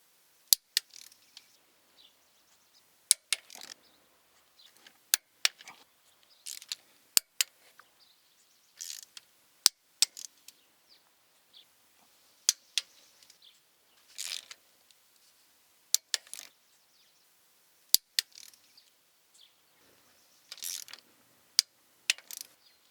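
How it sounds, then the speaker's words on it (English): A torque wrench tightens diff cover bolts in a cross pattern on a Duramax rear differential, fitting a PPE cover. Sharp, isolated metallic clicks ring out at irregular intervals against near silence, with softer ratcheting and handling noises between them. "I'm going to go ahead and torque these and mark these off as I go"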